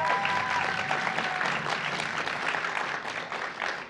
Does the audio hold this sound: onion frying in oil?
no